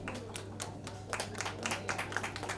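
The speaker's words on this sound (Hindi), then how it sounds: "इस बार तालियां जोरदार बजनी चाहिए" Scattered audience applause at an OTT platform launch event, a dense patter of many hands clapping fairly quietly from some distance, with no one speaking over it.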